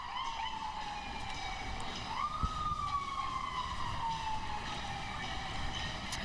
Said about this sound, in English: we're trying to hear you with all those sirens going on right behind us here